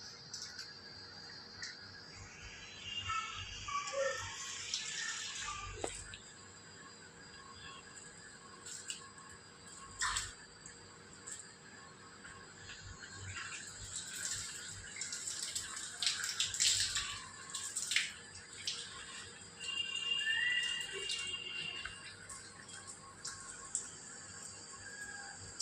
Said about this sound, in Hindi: गाइस देख सकते हो आज मेरी मम्मी प्लांट में पानी डाल रही है।